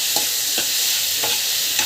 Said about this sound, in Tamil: நல்லா வந்து வதக்கிட்டுக்கோங்க.